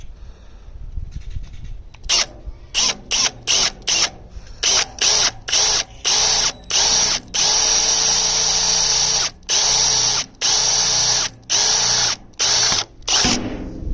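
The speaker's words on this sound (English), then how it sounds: "Let's just go for drill" Power drill boring a hole through a thick part while swapping a 6.0 Powerstroke diesel radiator: close, loud whining bursts in a stuttering start-stop rhythm, trigger pulses lengthening into longer sustained runs.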